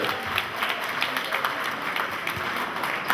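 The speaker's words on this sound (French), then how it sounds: "On acclame, mesdames et messieurs." Audience applause at an Agneby Solidarité association gathering in France, a steady wash of many hands clapping at moderate level for about three seconds with no clear pauses.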